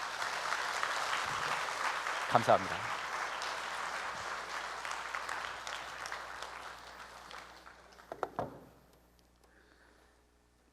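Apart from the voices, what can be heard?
applause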